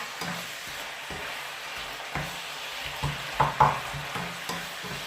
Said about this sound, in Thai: ผัดให้กะเพราเขาแตกออกนะคะ